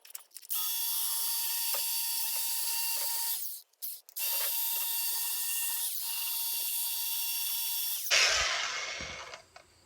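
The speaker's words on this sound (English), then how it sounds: "we're going to get the grinder and clean this all up real good" A grinder cleans up the rear axle housing of a 1994 Ford Ranger with a loud, steady high-pitched whine, cutting out briefly near four seconds, then resuming before a rougher scraping burst at the end.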